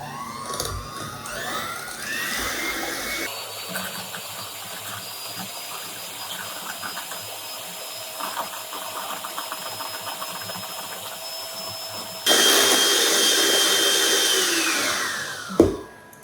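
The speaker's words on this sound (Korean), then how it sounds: "우선은 얘를 좀 부드럽게 휘핑을 해볼게요." Electric hand mixer whipping cold cream and mascarpone in a bowl, a continuous whirring motor whine that shifts speed, then jumps louder near the end before cutting off, close and without talk.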